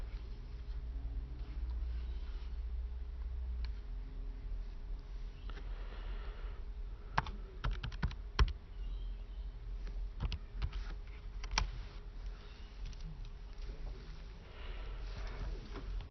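Fingers tap number keys on a calculator in a quiet room, a cluster of short, soft clicks arriving in quick bursts over a low background hum.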